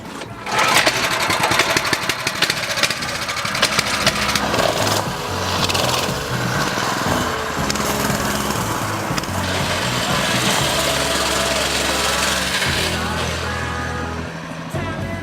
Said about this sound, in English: we got the Coleman bike out, the CT200U. We're gonna see if we can go spin some laps around in the dirt